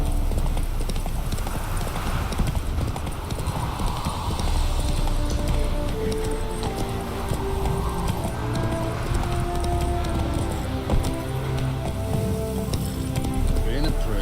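Hooves of Roach, a horse in the video game Witcher 3, clip-clop in a steady rhythm throughout, joined by background game music and occasional voices talking.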